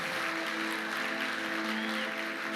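A church congregation applauds, a dense, even wash of clapping that holds steady throughout, with sustained tones from an instrument or hum running beneath it.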